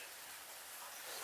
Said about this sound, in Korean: 지금 이거 영상에 빗소리 들리죠?